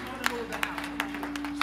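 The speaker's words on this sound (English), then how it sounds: "put some power behind that hand clap and give him glory." Church congregation clapping their hands in praise at a celebration-of-life service, a string of separate sharp claps over a steady sustained organ-like tone with voices underneath.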